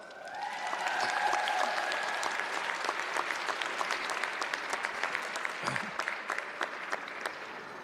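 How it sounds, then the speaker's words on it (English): Sustained applause from a large audience at a winter college commencement ceremony, steady dense clapping that fills the hall for several seconds, with faint voices and a tonal hum in the background. "Give them a round of applause."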